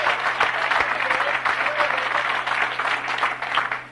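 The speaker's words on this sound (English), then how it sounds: "But let's give him a round of applause" Audience applause during a 1998 Narcotics Anonymous unity convention speaker session, a steady wash of many hands clapping that holds evenly for about four seconds before tapering off at the end, with a low constant hum in the background.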